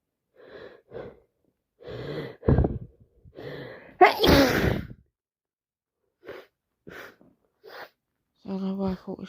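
Wet, explosive sneeze from a person with a heavy cold, one loud burst in the middle with breathy gasps before it and sniffing and brief vocal sounds around it, recorded close up.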